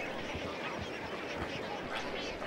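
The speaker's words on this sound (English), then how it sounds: "By some estimates, more than a million flamingos flock to Bogoria." A huge flock of flamingos at Lake Bogoria in Kenya, a dense, continuous wall of honking, goose-like calls from countless birds blending into a steady roar with no single call standing out.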